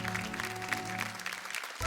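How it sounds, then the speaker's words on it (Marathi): A studio audience at a Marathi television game show claps briefly, a dense patter of applause at moderate distance lasting under two seconds with no speech over it. "एकदा जोरदार टाळ्या होऊन जाऊ दे."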